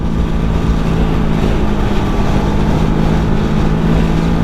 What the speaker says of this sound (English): I love the staccato sound of that V-twin, especially up to mid RPM.